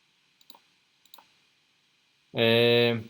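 Two faint mouse clicks at about half-second and one-second marks while working in a database modeling program for a pet shop system, each a quick tick, followed by a loud, brief tonal burst near the end.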